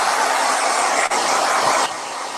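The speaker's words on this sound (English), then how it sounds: "I'm actually going to take the blow dryer and blow it dry for a quick second" Loud, steady whooshing rush of a blow dryer running close by, with a brief dip midway and a slight drop in strength near the end.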